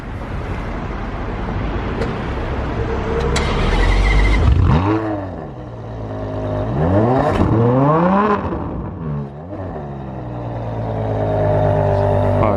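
A Ferrari 599 SA Aperta V12 fires up with a loud starter whir and catch, then blips through several sharp, rising revs that fall back to a rumbling idle, close and alone.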